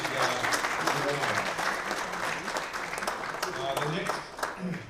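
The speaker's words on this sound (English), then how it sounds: "So with that being said, we'll give Larry a little round of applause." A crowd at a high school hall of fame induction ceremony gives a round of applause, steady, moderately quiet clapping from many hands filling the room.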